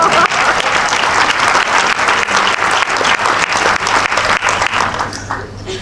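Loud, dense applause from a comedy gala audience, sustained steady clapping filling the room throughout before thinning slightly at the end.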